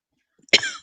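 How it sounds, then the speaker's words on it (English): A single short, sharp cough bursts out close to the microphone after near silence, ending in a brief throaty rasp. "I'm going to cough."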